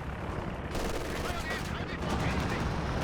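Artillery barrages and gunfire rumble through a Company of Heroes 2 match, dense repeated blasts at moderate level with a commentator talking over them.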